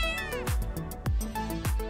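A cat meows three times in a row, loud and close, each call a drawn-out falling cry with little pause between.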